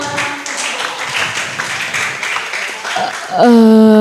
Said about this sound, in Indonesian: Tepuk tangannya meriah untuk para paslon kita hari ini dan tepuk tangan untuk kita semua.